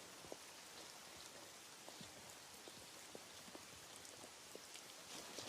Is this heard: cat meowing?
no